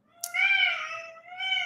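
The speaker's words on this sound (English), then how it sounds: "that's my cat" A pet cat lets out one long, drawn-out meow, then a shorter follow-up cry, close and fairly clear with no talking.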